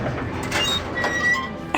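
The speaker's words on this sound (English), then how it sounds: "It's the sound of this rusty gate opening, and they use it on everything." A stock rusty gate sound effect creaks open in a short, scratchy, grinding squeal with thin high squeaks over steady noise, ending in a small sharp knock.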